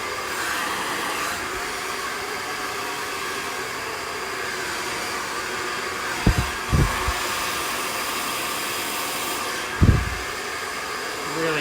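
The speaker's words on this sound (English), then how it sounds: "really nice straight blow dry" A hair dryer blows steadily throughout while a brush straightens hair into a smooth blow-dry on an asymmetric bob cut, with a few soft bumps and handling knocks partway through.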